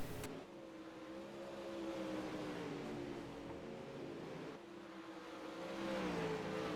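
Dirt Pro Late Model race cars roar around the Eldora dirt oval, engines droning and surging in pitch as they lap, a sustained distant-to-moderate rumble with no talk over it.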